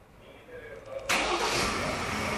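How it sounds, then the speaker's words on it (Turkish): A Ford Ranger pickup's engine starts: a quiet lead-in, then an abrupt crank and catch about halfway through that settles straight into a steady, loud idle. "Çalıştırın aracı."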